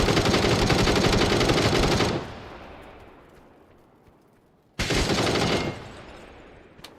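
Dense automatic gunfire rattles in PUBG, a loud sustained burst for two seconds, a fading echo, then another heavy volley, close and overwhelming.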